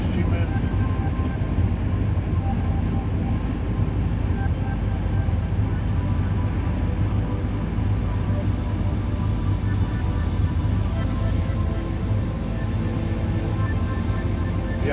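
A train of five wagons rolls steadily on rails, a loud continuous low rumble and rattle with no break for the whole stretch.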